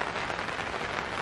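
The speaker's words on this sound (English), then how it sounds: "Until it stops raining." Rain patters densely on a tent at a riverside campsite by the Nile, a close, steady hiss of many drops with no talking.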